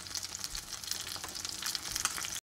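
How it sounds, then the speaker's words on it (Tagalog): Chicken adobo frying in a pan, a close, continuous crackling sizzle with brief stirring bursts, cutting off abruptly at the end. "Pag magluto ako ng adobo talagang manok,"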